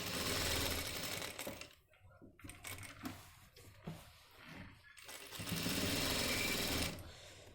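A sewing machine stitching a jacket runs in fast, loud, steady bursts at the start and again near the end, with a quieter stretch of handling and cloth movement between the runs.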